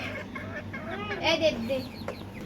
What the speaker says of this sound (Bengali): এখানে আছে চারটা মুরগি